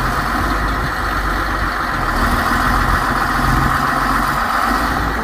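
A 2001 John Deere 850C dozer engine idles steadily nearby on a mild day, a continuous low diesel rumble with a broad, even mechanical drone and no speech.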